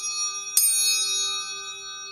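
A homemade wind chime of hanging metal wrenches, or spanners, is struck once and rings out with a bright, sustained metallic tone that fades slowly. It sounds close and clear against quiet surroundings.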